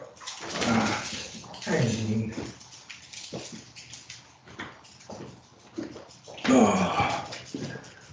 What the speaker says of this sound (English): I've been sitting down here in the basement with 15 puppies, and here's two of them